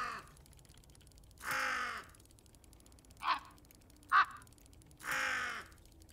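A pet bird calls loudly indoors in a few harsh, crow-like caws, two long squawks bracketing two short sharp chirps, spaced apart with quiet gaps between.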